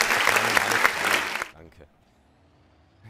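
Applause sound effect played from DJ mixing software, a loud burst of clapping and cheering for about a second and a half, then cutting off abruptly into near silence.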